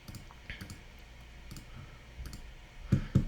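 Sharp computer mouse clicks, a scattered handful over a few seconds with two louder double clicks near the end, close and fairly quiet with no voices.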